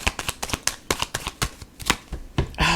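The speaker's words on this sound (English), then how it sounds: "I know y'all saw me shuffle" A deck of tarot cards is shuffled by hand in quick, close, papery riffles and taps, about a dozen sharp bursts, ending in a brief murmur.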